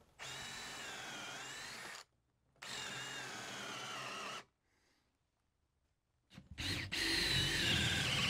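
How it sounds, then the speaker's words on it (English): A power drill bores holes in wooden rudder pieces for an outboard wooden sailboat, with two steady whining bursts of about two seconds each, a pause, then another drilling burst starting, close and alone. "Okay, now we flip and drill from the other side."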